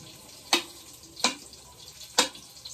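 Three sharp bursts of sizzling, evenly spaced, as garlic is stirred into hot oil, with quiet gaps between them.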